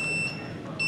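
A clean room display sounds a temperature alarm, steady high electronic beeping tones that pause briefly and then resume, with faint room hum underneath.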